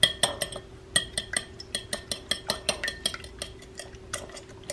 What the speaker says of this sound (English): I'm gonna beat the egg